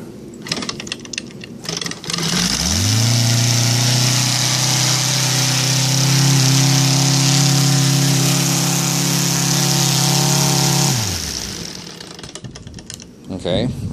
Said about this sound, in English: Engine starts pretty easy even now that it's hot, but even on cold it starts really, really nice.